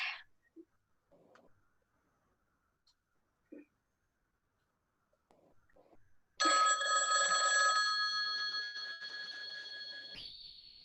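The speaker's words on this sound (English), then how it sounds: "went to the phone and dialed" A telephone in a radio play is dialed with a few soft clicks, then rings loudly and steadily for about four seconds before cutting off.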